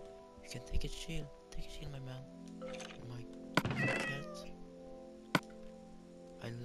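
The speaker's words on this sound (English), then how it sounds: "Here's a cat." A cat in the Minecraft video game meows several times in short separate calls, close and clear, with a thunk and other game sounds, while a person talks over it.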